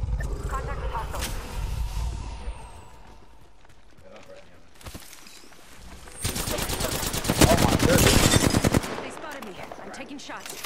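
Rapid automatic gunfire in a shooter video game, bursts rattling loudly and building to a dense stretch near the end, with a faint spoken voice nearby.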